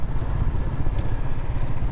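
A motorcycle riding along a muddy, rain-soaked road, a steady low rumbling engine drone close by with a rough, fluttering texture and no voices.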